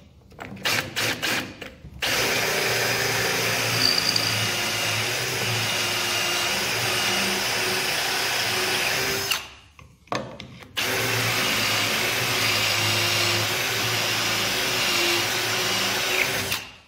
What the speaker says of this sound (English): And I can drill two in one go.